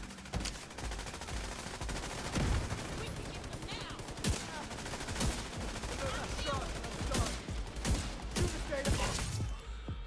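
Gunfire in The Division 2 video game rattles on continuously, a dense stream of sharp shots and impacts with no speech over it.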